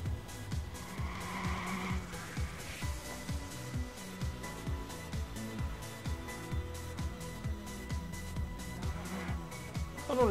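A car driven in the video game Watch Dogs, with a steady engine drone, repeated revving gear shifts and brief tire squeals, loud and continuous with no talk.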